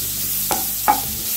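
Onions sautéing over a medium flame in a pan, a steady sizzle close by with two sharp scrapes of a spoon stirring against the metal.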